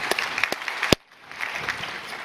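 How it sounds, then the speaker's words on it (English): Conference attendees at a GreenFin 23 session applaud panelists with a brisk patter of scattered claps, broken by one sharp loud clap before a brief lull, after which thinner applause resumes. "Round of applause for these folks"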